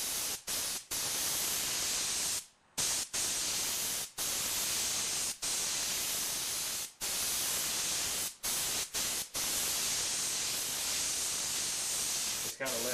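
Airbrush spraying paint onto a T-shirt: a close, steady airy hiss broken by many short pauses as the trigger is released and pressed again.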